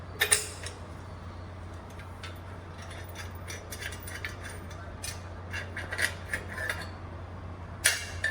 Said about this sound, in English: every time you run the cable through, you have to undo the pulleys just like that